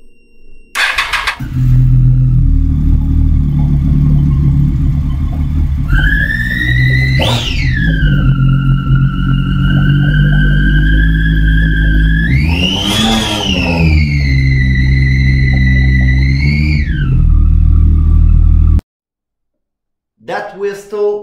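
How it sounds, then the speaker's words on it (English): A 2007 Triumph Daytona 675 three-cylinder motorcycle engine idles loudly, then revs twice in rising and falling sweeps with a distinct intake whistle above the growl, close up, before cutting off abruptly. "That whistle is due to the air inflow inside the injection system and to the specific 3 cylinders engine"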